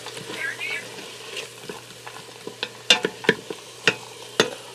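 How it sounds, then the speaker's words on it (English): A spoon stirs drained beans and corn in an Instant Pot Duo Crisp, giving soft wet scraping, then sharper clinks against the pot in a loose, close rhythm of strokes. "I'm going to give that a stir"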